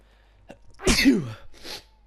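A single loud sneeze, sharp and close, preceded by a short intake of breath and followed by a faint exhale, over the video game Jurassic World Evolution.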